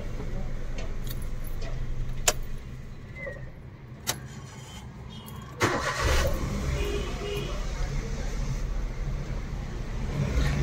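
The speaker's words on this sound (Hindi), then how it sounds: "तो एक बार इंजन ऑफ करके ऑन करते हैं फिर से।" A Maruti Suzuki WagonR engine with a CNG conversion idles, cuts out briefly, then cranks and restarts with a louder rumble that settles into a steady idle; a few faint clicks and jingles earlier.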